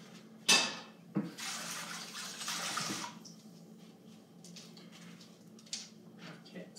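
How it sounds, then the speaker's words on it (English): Tap water runs into a sink while hands are washed, a clear splashing burst early on then steady flowing water for a couple of seconds, tapering to quieter kitchen noises. "I'm just going to quickly wash my hands."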